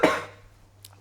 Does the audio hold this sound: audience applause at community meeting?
no